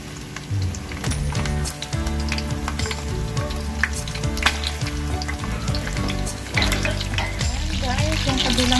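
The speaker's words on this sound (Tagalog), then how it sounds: "Ipiprito natin yung ating chicken wings with vegetable." Chicken wings and vegetables fry in a pan over low heat, a steady close sizzle with crackling pops throughout and a faint scrape of stirring now and then.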